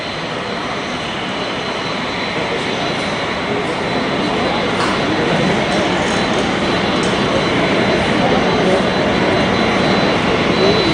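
A jet airliner from Saudi Arabia arriving at Halim Perdana Kusuma airport, its engines producing a loud, continuous broadband roar that holds steady and swells slightly, with faint voices underneath.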